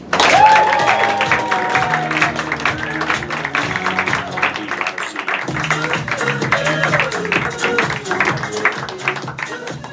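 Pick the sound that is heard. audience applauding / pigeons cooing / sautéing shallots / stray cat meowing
audience applauding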